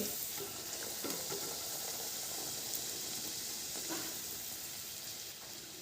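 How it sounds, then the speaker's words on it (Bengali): Dal puri stuffed with masoor lentil filling frying and puffing up in hot oil, a steady loud sizzle and bubbling hiss throughout with no voices. "গরম তেলে দেওয়া মাত্রই কিন্তু একদম ফুলকো ফুলকোভাবে এগুলো ফুলে যাচ্ছে"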